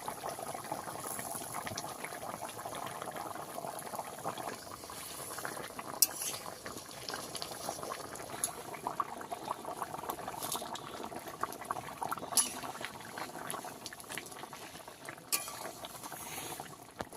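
Fish curry broth in a pan simmers at a gentle boil, a soft continuous bubbling with occasional small pops and clicks, close and quiet with no talking.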